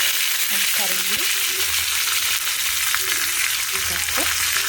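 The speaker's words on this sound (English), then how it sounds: "You can see the oil starts sputtering." Hot oil sputters and crackles steadily in a pan with dry rice, dry red chili and curry leaves, a dense continuous sizzle with faint clinks of a utensil now and then.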